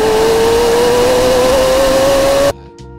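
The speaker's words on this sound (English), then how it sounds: "Just listen to the noise of this wonderful car." A McLaren 750S with a 740-horsepower twin-turbo V8 gives a loud, sustained engine drone whose pitch climbs slowly as it revs, then cuts off abruptly near the end, leaving quiet.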